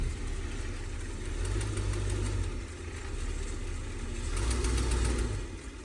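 A Winnebago Brave motorhome engine idles nearby in a steady, rumbling low drone that rises and falls slightly, with no one speaking.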